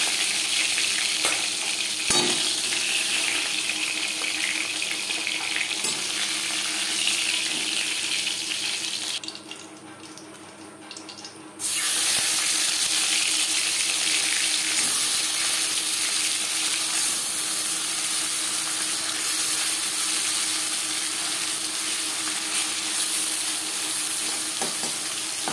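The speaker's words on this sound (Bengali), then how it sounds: "মাছ ভাজা করলাম রিফাইন্ড অয়েলে" Pieces of katla fish frying crisp in refined oil, a steady, loud, close broadband hiss that drops briefly near the middle before resuming unbroken.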